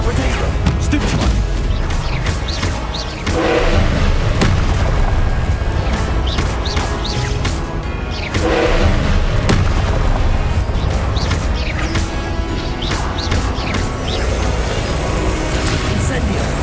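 Confringo blasting spells go off in Hogwarts Legacy, a string of booming, crashing explosions hitting every few seconds over a constant dense game soundscape, with a voice talking now and then.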